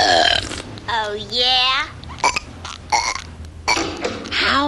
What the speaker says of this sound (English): I absolutely forbid burping in this household